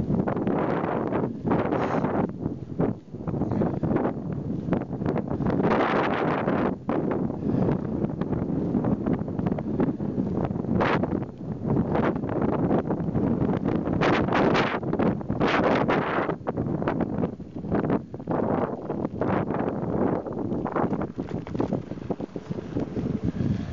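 Strong wind buffeting the microphone during a bike ride through a snow storm on icy roads, a loud continuous roaring rush with gusty surges and no voice.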